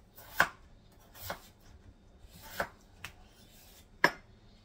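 A kitchen knife chops vegetables for an Amish golden stew in four or five crisp, separate strikes on a cutting board, close and clear, with quiet pauses between cuts and no talking.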